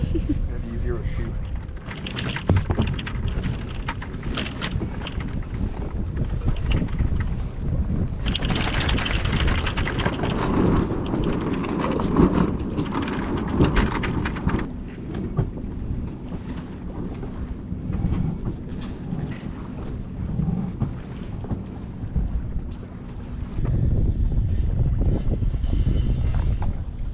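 Strong wind buffets the microphone aboard a sailboat at anchor off Mexico while the sail is unfurled, a steady roaring rush with gusty surges, water and rigging noise beneath, and voices talking partway through.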